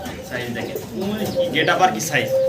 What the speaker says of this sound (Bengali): লাক্ষা কবুতর আমেরিকান